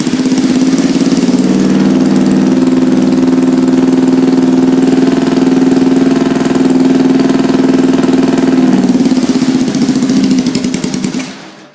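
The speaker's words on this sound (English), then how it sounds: "when you give it gas, any kind of gas, it'll just stall out." A small engine runs loudly and close with a steady humming drone for about ten seconds, then sputters and dies away as it stalls out.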